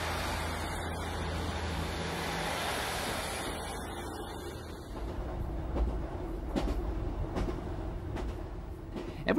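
A train rolls along the single-track Far North railway in Sutherland toward Caithness, a steady low rumble with rail clicks that grow louder and more rhythmic near the end, alone without talk.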